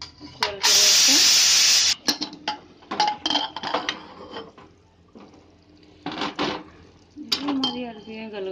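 A pressure cooker of boiled taro is opened with a sharp burst of steam hiss, followed by close metal clanks and handling of the pot and lid, with a person talking in between.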